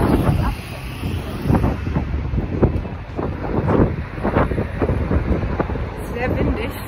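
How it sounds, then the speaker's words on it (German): Strong wind buffets the microphone in loud gusty bursts, roaring and rumbling in uneven surges, with a voice faintly underneath. "Sehr windig, sonst macht den Ton aus"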